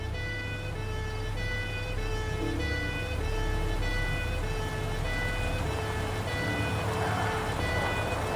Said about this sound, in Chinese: 官员总监的警车